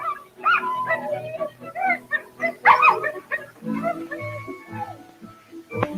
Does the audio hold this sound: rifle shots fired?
no